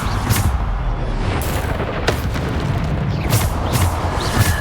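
Bombarda spell explosions in the video game Hogwarts Legacy, heavy booming blasts and crackling bursts arriving in quick succession over a constant dense rumble of combat noise.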